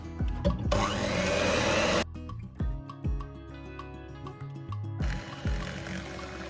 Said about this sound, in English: we're going to use the hand mixer